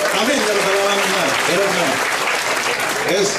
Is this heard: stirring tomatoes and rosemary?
no